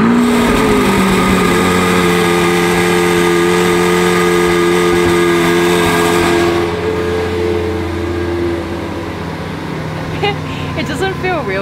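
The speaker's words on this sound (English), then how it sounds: "I'm just about to drive the Veneno for the first time out of the showroom and down the road" A Lamborghini Veneno hypercar engine drones loudly inside the cabin as it pulls away from a showroom onto the road, holding a steady high-pitched tone before easing off; voices are faint beneath.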